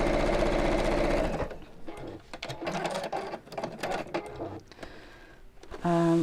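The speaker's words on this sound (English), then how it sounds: "I'm just going to sew across the top of that just to hold it in place." A sewing machine stitches across the top edge of a fabric piece close to the edge before binding goes on, running loud and steady for about a second, then quieter rattling handling and movement follow with a short burst of motor again at the end.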